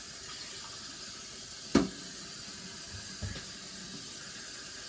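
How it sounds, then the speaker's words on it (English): A kitchen faucet fitted with a water filter runs with a steady, faint hiss of flowing water, broken by a sharp splash or clunk near the middle and a softer knock later. "I got water flying everywhere because this filter really sucks"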